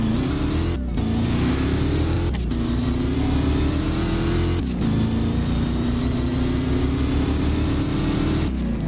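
Shelby GT500 from 2013, a Ford Mustang in the Driving Empire video game, revs its engine loudly and steadily for about nine seconds, with brief dips in the drone between rising pulls and no talk over it.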